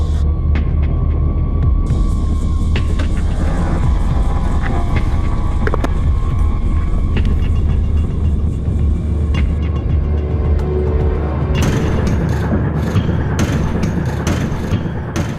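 Motorbike engine with a fault, a loud steady low droning hum that runs the whole time, with rattling and clattering bursts toward the end.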